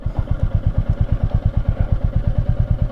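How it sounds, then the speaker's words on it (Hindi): A motorcycle idles and chugs in a fast, steady rhythm close up as it turns around near an empty temple at Chittorgarh Fort, loud and alone. "तो मैं डायरेक्टली अपनी बाइक घुमा सकता हूँ यहाँ पे।"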